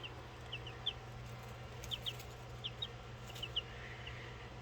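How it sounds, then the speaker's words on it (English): Salmon Faverolle chicks peep in short high cheeps, a few scattered calls repeating every second or so over a steady low hum, faint and fairly close. "They're Salmon Faverolles."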